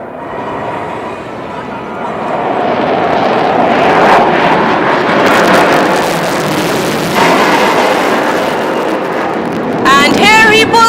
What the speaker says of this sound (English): watch on as the pilot will now execute a remarkable maneuver called the tail slide